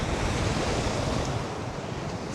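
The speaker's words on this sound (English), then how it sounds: "Lake Michigan is a lot more waves than people think." Waves breaking steadily on the Lake Michigan shore at Racine, Wisconsin, a continuous broadband surf roar with wind buffeting the microphone, close and loud with no voices.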